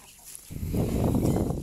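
Muscovy ducks and free-range village chickens being fed, their noise rising in a sudden dense flurry of clucking and scuffling that continues steadily close by.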